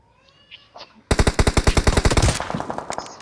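Rapid automatic gunfire in a video game bursts in after about a second of quiet, a steady string of loud close shots that loosens into scattered rounds toward the end.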